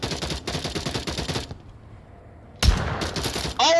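Gunfire in the VR shooter Onward during a competitive esports match, with a dense run of sharp shots, a brief lull, then another close burst of firing.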